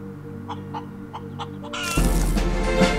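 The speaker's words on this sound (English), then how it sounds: "He used the chicken to put out the electricity." A chicken in the video game Breathedge gives a few short, spaced clucks over a low electronic hum, then a loud, sustained burst of noise takes over.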